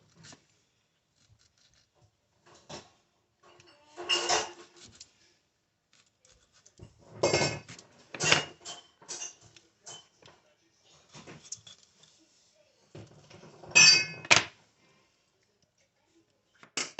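Strawberries crushed in a mortar and pestle, heard as sparse, close, wet thumps and grinding bursts in irregular clusters separated by quiet gaps.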